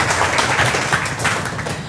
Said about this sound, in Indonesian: tepuk tangan dulu dong buat strong kanggeng